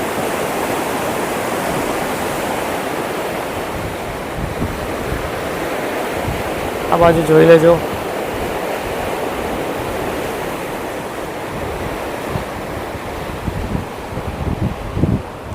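Narmada canal water flowing beneath the Sabarmati river, a loud continuous rushing roar with wind noise, briefly interrupted by a short voice.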